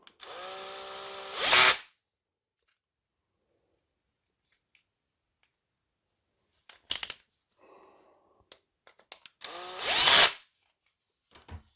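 Screws being driven into a PS3 hard disk with a power driver: two short whirring bursts, one at the start and one near the end, separated by silence and small clicks and handling noises.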